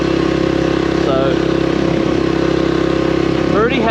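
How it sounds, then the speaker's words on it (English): Honda Trail 125 motorcycle fitted with an aftermarket exhaust cruises steadily with a constant, loud engine drone, close by, with a brief rise near the end. "this particular bike here, it's got aftermarket exhaust on it"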